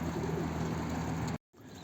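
A male pigeon or dove cooing steadily at close range, a low repeated call over faint background hum, cut off briefly near the end before the ambience resumes.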